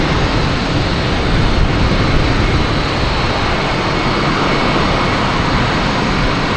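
A JetBlue airliner at Boston Logan Airport, its engines a loud, steady broadband roar that fills the whole stretch without easing, heard alone with no talking.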